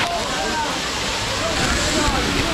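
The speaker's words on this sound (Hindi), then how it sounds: "बहुत सारा शोर है इधर पानी का" Rushing water thunders down Bamni Falls, a steady, loud broadband roar that fills the scene from start to finish, with faint voices mixed into the background.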